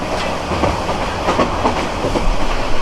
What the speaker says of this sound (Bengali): আমাদের বলাকা কম্পিউটারটি কিন্তু যথেষ্ট স্পিডে যাচ্ছে